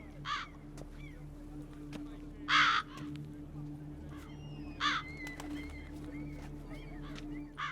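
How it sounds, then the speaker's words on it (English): Crows in The Witcher 3 video game give several harsh caws spaced a few seconds apart, fairly close and loud, over a quiet ambient hum with smaller bird sounds between. "Wonder if the crows are always here."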